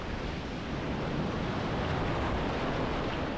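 Sea waves breaking on Agia Marina beach on the Chania coast of Crete, a steady broadband wash of surf with some wind, continuous and fairly close, no voices.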